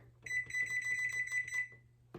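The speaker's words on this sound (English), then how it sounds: "So let's go ahead and set the timer." A kitchen timer is set while making homemade banana pudding, giving a rapid run of bright electronic beeps that stop abruptly, followed by a short click.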